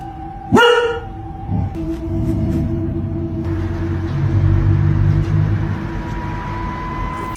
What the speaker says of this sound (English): barking and growling as if warning whatever was there to stay back